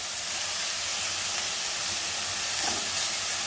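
Fenugreek leaves sizzle in a pan of softened cooked tomato, a loud, steady, close hiss that runs unbroken from start to finish.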